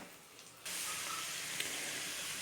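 Marinated country chicken drops into a hot pan with fried potatoes and a cardamom pod, setting off a sudden loud, bright sizzle that keeps hissing steadily and close.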